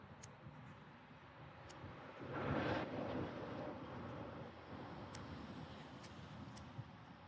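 Wind blows outdoors, buffeting the microphone in soft rushing gusts that swell for a moment before settling back to a low, faint hiss.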